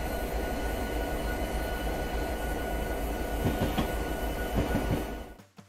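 Train in the Train Sim 2021 video game: a loud, steady rumble of rolling stock with clattering wheel noise and a few sharper knocks, continuing for several seconds before fading out quickly as it comes to a stop.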